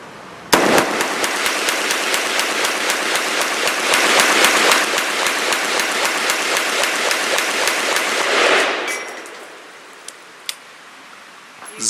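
A Bear Creek Arsenal Bear Essential rifle empties a full magazine of Barnaul steel-cased ammunition in a rapid, steady string of loud, close shots lasting several seconds, followed by near quiet and a single faint click.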